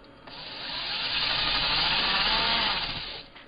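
Power drill boring a pilot hole in a cleanout cap fitting of a homemade HHO cell, a continuous grinding whine that swells, holds for about two seconds and tapers off, close and alone.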